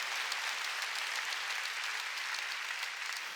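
A church congregation at a Wednesday worship service clapping together, a dense, steady wash of hand claps lasting the whole few seconds, moderately distant and even.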